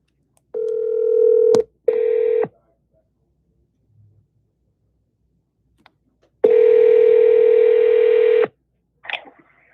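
Telephone sounds while calling a realtor: a steady dial tone, a brief pause, a second short tone, silence, then a long loud ringback tone followed by a faint click.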